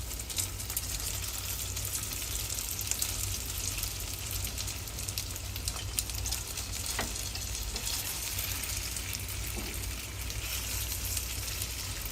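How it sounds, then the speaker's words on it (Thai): Ready-made gyoza dumplings fry in olive oil over low heat, giving a steady, soft, continuous sizzle that stays even throughout with no voices. "ทอดไฟอ่อนเจ้าจะใช้ไฟแรงมันจะไหม้เนาะ"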